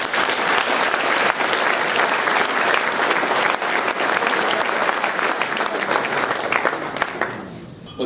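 An audience at the Headway Awards 2013 ceremony breaks into sustained, dense applause that holds steady for several seconds and then begins to fade near the end.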